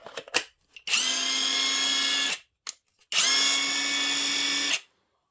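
A GRAND cordless drill-driver runs in two sustained bursts of steady high motor whine, each lasting about two seconds, with short clicks and a pause between them, close and loud.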